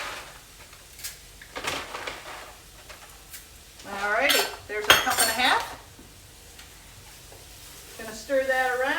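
A spoon stirs risotto in a pan with butter and oil, giving metallic scrapes and clinks over a soft sizzle, while a person talks intermittently.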